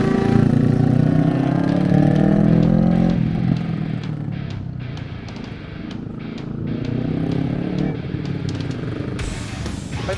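A motorcycle on a training ride, its engine revving loudly and nearby at first, then easing off into a lower drone before picking up again, with no talk.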